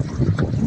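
Strong wind at a baywalk on Laguna de Bay rushes steadily across the microphone as a loud, continuous low roar with buffeting gusts, and no voices can be heard.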